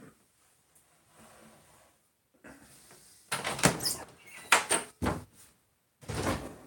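A door indoors is opened to let a dog in, giving a few sharp knocks and thuds close by, with quiet shuffling beforehand.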